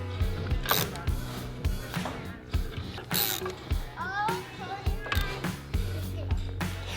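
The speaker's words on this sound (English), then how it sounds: "let's go ahead and we'll use our ratchet that we've got set up here. And we'll cinch them down the rest of the way." A hand ratchet cinches down brake assembly bolts on a new Airstream trailer axle, giving repeated close metallic clicking strokes in short bursts separated by brief pauses.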